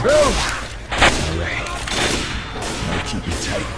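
Gunfire in the zombie shooter Left 4 Dead 2, a dense fusillade of shots and impacts running through the whole stretch, with game effects and background clatter mixed in and a voice briefly audible.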